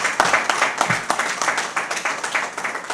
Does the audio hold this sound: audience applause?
yes